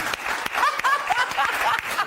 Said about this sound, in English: OK, round of applause for that one Thanksgiving fact.